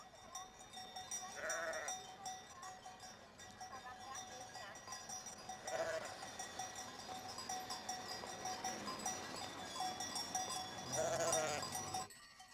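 A flock of sheep in the Jura bleats at a distance during seasonal transhumance, with a few calls standing out over a steady outdoor murmur and a faint clank of bells.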